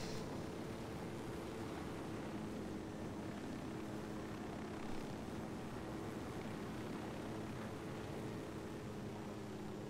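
Steady, continuous helicopter engine drone with a low rotor hum in the video game Ghost Recon Wildlands, holding at an even level throughout with no talk.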